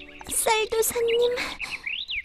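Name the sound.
birds chirping in animation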